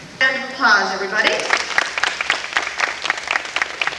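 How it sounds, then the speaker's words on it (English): A round of applause from an audience at a student awards event, starting after a short vocal burst and continuing as scattered, lively clapping. "Round of applause, everybody."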